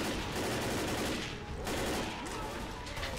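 Gunfire in the video game Left 4 Dead, a dense, continuous burst of rapid shots filling the whole stretch at a fairly low level, with no clear speech over it.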